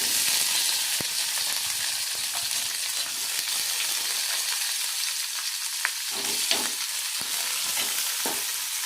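Curry leaves and onion hit hot oil in a pan for a Kannada-style curry, giving a steady loud sizzle with occasional clinks and stirring scrapes, close and without talk.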